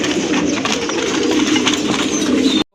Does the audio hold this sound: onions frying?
no